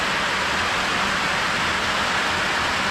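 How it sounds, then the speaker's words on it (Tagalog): Steady rain falls continuously and fairly loudly, an even hiss with no breaks and no voices over it. "Kasi umuulan"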